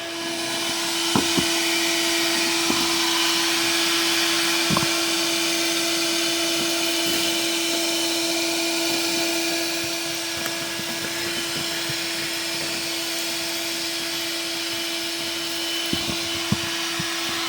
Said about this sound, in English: So I'm going to vacuum for a couple minutes.